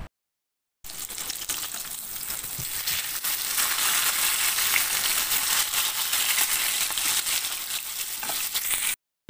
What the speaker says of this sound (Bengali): আমি ওই জ্যান্ত মাছটাকে কেটে নিয়ে নুন হলুদ মাখিয়ে আমি সর্ষের তেলে ভেজে নিচ্ছি